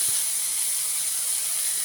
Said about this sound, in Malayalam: കുറച്ച് വെള്ളം ഒഴിക്കണം